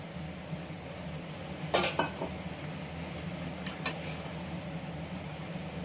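A metal spoon scrapes and clinks against a pot while boiled matar dal is stirred into a pumpkin greens curry, two clusters of sharp clatters over a low steady hum of background noise.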